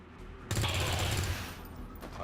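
A burst of ballistic gunfire in the XCOM 2 video game starts abruptly and rings out loud and sustained for a couple of seconds, then fades into quieter game ambience.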